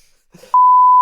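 A single loud censor beep, one steady high-pitched tone cutting in abruptly after a brief murmur of speech and holding to the end.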